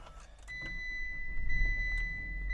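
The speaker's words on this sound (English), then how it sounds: "let's start the car." A Mitsubishi Eclipse Cross started by push button, its engine catching with a short crank and settling into a low idle inside the cabin, with a steady tone above.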